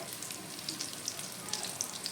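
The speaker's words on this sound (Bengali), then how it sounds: "তো দেখো বেগুনটা খুব ভালো করে ভাজা হয়ে গেছে" Eggplant fries in oil, a brief close crackling sizzle with tiny popping spits over a soft hiss, no voices.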